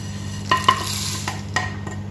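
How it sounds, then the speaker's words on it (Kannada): Mustard seeds crackle in a hot pan while a spice mix for mutton masala is dry-roasted, a few sharp pops and taps over a low steady hum. "ಸ್ವಲ್ಪ ಸಾಸಿವೆ ಹಾಕಿ ಉರ್ಕೋಬೇಕು"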